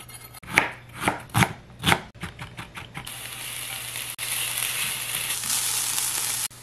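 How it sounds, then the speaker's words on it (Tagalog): Onion, garlic and ginger are chopped in several crisp, close knife strikes, then hit a hot pan with a loud, steady sizzle that continues to the end, with no talk. "Magigisa tayo dyan ng sibuyas, bawang,"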